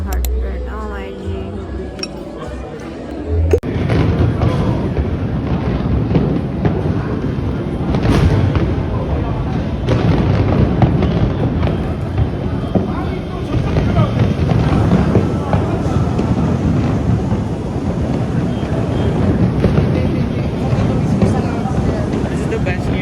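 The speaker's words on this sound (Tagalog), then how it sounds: "There's so many fireworks, guys." New Year fireworks burst continuously around the listener, a dense loud stream of cracks and booms with crackling, with no clear pauses.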